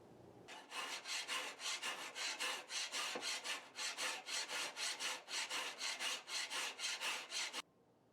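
A hand file works the bevels of a hand-forged tanto blade in steady back-and-forth strokes, about two dozen regular rasping passes, close and alone, ending abruptly.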